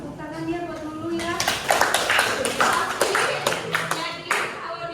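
A classroom group claps for a student named Lulu during a school counseling session, a scattered burst of hand claps that builds after a voice speaks, with talk continuing beneath the clapping.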